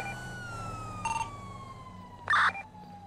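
A police siren wails over a steady mid-game soundscape during a store robbery, with tonal sweeps fading in and one brief louder burst near the end, suggesting another cop car closing in.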